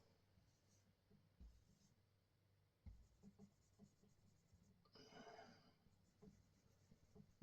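A pen or pencil drawing lines on paper, producing faint, soft scratching strokes in quiet surroundings, including one slightly longer, brighter stroke partway through.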